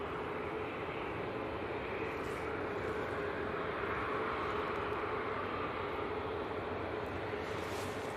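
At Manchester Airport, a plane rolls down the runway, its broad, steady engine roar held at a distance and even in level for the whole stretch.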